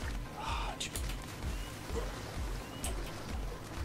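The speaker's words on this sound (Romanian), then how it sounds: "A, și acum plouă." Rain falls in the survival video game ARK, a steady, moderately quiet patter with soft low thumps pulsing underneath.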